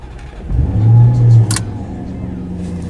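A Maserati GranTurismo engine rumbles nearby, swelling briefly into a low rev before settling back to a steady idle.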